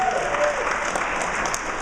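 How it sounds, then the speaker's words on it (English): An audience claps together in a school talk about a reading program, a brief, dense, steady burst of applause with no voice over it. "How many like the reading program? Clap your hands."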